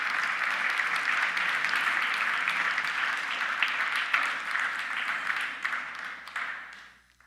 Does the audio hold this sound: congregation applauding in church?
yes